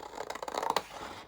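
Scissors snip the edge off a handmade cover, a quick run of close, crisp cutting strokes over about a second, with no talk.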